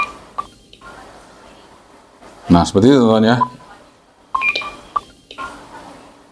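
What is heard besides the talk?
Quansheng UV-K5 radio roger alarm tone, IJV MOD firmware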